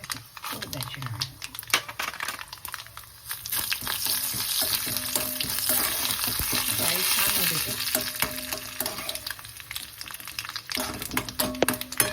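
Cumin seeds sizzle in hot oil with chana dal as a tempering for curd rice, a loud continuous crackling fry with stirring scrapes, while a voice talks over it.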